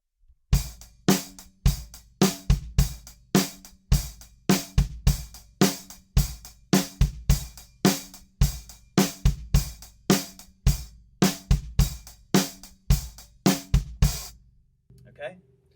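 A drum kit plays the groove with an extra bass drum on the last eighth note of the bar, steady repeated kick, snare and cymbal hits, loud and close, played alone for about fourteen seconds before stopping.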